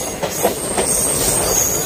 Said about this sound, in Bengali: কামাখ্যা ট্রেনটি ঢুকছে এখন কামাখ্যা স্টেশনে